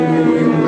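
Loud, sustained wail of an air raid siren at a wartime re-enactment at Rufford Abbey, a steady droning tone heard in a short burst.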